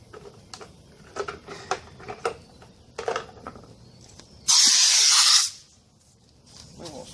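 Compressed air from a tank rushes into a patched tire on a Yerfdog, a loud, close, steady hiss lasting about a second after scattered clicks and handling noises, then falling quiet.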